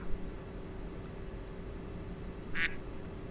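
A person imitates a duck, giving a short, bright quack near the end over faint steady background hum, with no other voices.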